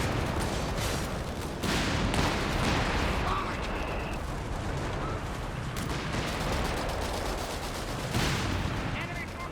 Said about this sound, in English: Machine gun getting overrun here.